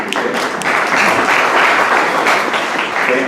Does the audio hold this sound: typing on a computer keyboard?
no